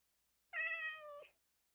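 A single drawn-out meow from a cat in the video game Minecraft, clear and fairly close, rising slightly and then trailing off over less than a second, with silence before and after.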